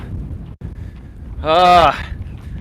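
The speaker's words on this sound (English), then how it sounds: "When is this wind going to die down out here?" Low, rumbling wind buffets the microphone continuously, with a brief loud voice cutting through partway.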